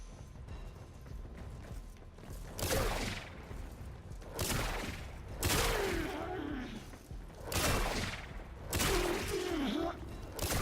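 Ivara's Artemis Bow in Warframe fires several times in a row, each shot a loud whooshing burst with a warbling, swooping tail, spaced a couple of seconds apart over a low background rumble.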